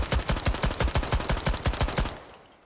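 A UMP45 firing full-auto in the VR shooter Hot Dogs, Horseshoes and Hand Grenades: a loud, close, steady burst of about fifteen evenly spaced shots at a modest rate, ending abruptly in a short fading echo.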